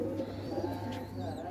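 Pigeons coo softly at a keeper's rooftop loft, a low continuous cooing close by, with faint background noise.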